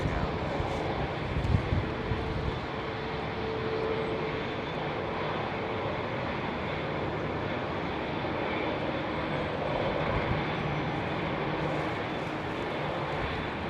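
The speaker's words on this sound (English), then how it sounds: "Did that Dreamliner just push back from a remote stand?" A Boeing Dreamliner pushes back from a remote stand at London Heathrow on a windy day, giving a steady, broad engine and airport roar at moderate distance with no clear breaks.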